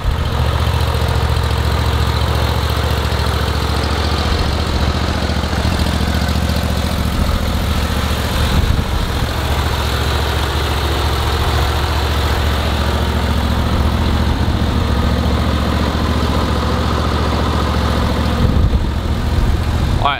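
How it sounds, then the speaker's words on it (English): A SCAG Turf Tiger 2 lawn mower engine runs steadily and loudly up close, a constant low droning rumble with no breaks throughout. "This engine just crushes right now."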